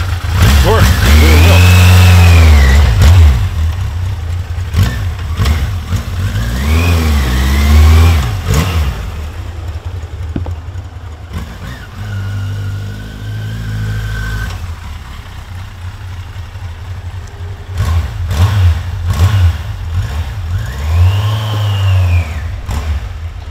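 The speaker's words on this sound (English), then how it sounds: "Now we dynoed the bike." A 1983 Yamaha Seca XJ900RK motorcycle engine revs on a dyno, loud and near, rising and falling through several long swells between idling stretches, with occasional voices underneath.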